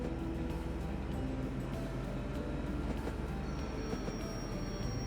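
Steady rumble of a train running in the video game Train World, with continuous wheel and carriage noise and a faint high whine entering midway, no talk.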